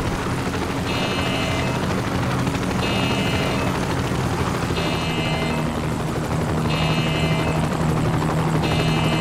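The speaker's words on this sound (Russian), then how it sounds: "вертушка." Helicopter in the video game Anabiosis: Dream of Reason, a steady rotor drone with a pulsing high whine recurring every two seconds, loud and alone without talk.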